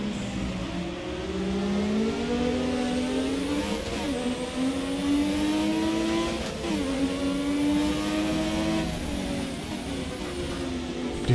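Historic Formula 1 race car in F1 2017 racing game, its turbocharged engine rising and falling through gear changes with a high turbo whistle riding over the steady loud engine drone, no talking.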